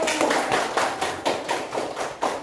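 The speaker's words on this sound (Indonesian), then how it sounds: "Kita berikan aplaus untuk Nurul" Classroom applause for a student, with hands clapping together in a steady, evenly spaced rhythmic pattern of about eight firm beats, fairly loud and close, with no talking.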